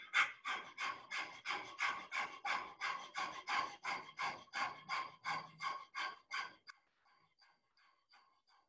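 Yogic dog breathing, a person leaning forward with tongue out and panting like a dog: a steady run of about twenty quick, huffing breaths, close and even, that stops abruptly and fades to near silence.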